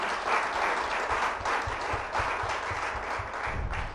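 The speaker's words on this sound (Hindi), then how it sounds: "तो जोरदार तालियां फिर से होनी चाहिए" An audience gives sustained, dense applause, steady and loud throughout with no break.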